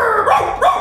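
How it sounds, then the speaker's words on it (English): A small dog gives a couple of short, close yelping barks that rise and fall in quick succession. "it's cute dog from gas station"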